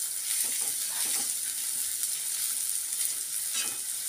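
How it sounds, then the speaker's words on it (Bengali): Rice fries in a pan with a soft, continuous hiss of sizzling and faint stirring scrapes, fairly quiet and close, no talk. "এই যে ভাজছি দেখো, দেখো চালটা কেমন ভাজা ভাজা হয়ে গেছে।"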